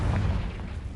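A Confringo fire spell bursts in Hogwarts Legacy, a loud, dense, sustained blast with heavy low rumble filling the whole short moment, with no talking over it.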